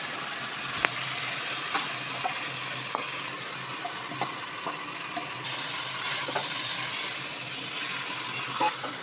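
Vegetables dropped into tempered oil and frying in a pan, a steady loud close sizzle with regular light scraping taps of a stirring spoon, no voices.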